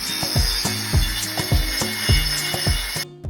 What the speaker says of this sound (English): I use an actual grinder to trim their feet